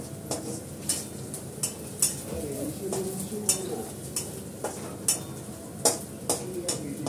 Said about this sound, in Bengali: এই পেঁয়াজটাকে ভালো করে লাল করে ভেজে নিলাম কালো জিরে দিয়ে